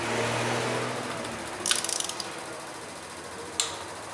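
A torque wrench tightens bolts in a crisscross pattern on a 2007 Jetta 2.5 20v or 2009 Vectra GT 2.0 8v in a mechanic's workshop: a fading low hum, then a short burst of ratchet clicks and one sharp snap.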